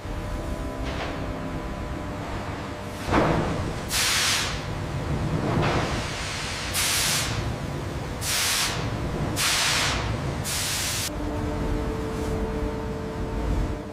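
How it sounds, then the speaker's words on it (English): Bursts of hissing steam hit piranha leather during setting in a skin factory, several sharp sprays in irregular succession over a low steady machine hum, with no talking. "Steam sets the tannins, locking in durability and texture."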